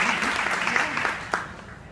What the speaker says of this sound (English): yes, we could please applaud for that